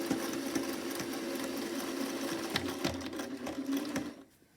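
A sewing machine runs in a steady continuous whir, stitching a close-edge seam on a striped envelope-style pillow cover, then stops just before the end.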